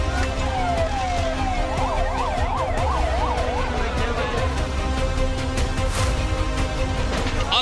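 Ambulance siren at a building collapse in Kota, Rajasthan, briefly whooping in quick up-and-down cycles, then fading under a dense din of engines, horns and crowd commotion.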